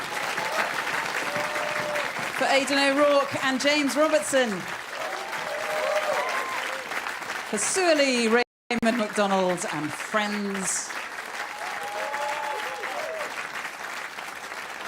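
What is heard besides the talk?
audience applause at a live concert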